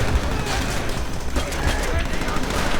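Rapid bursts of gunfire in Call of Duty: World at War crackle continuously, with a voice talking over the shooting.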